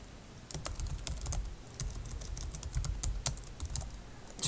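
Fingers tap out an email subject heading on a computer keyboard, a quick, uneven run of soft, close key clicks with brief pauses between bursts.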